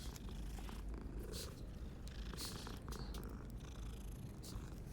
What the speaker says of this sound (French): Ah, chat! Il a passé en avant de moi.